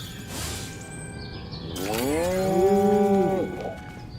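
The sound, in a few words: cow mooing in video game Destroy All Humans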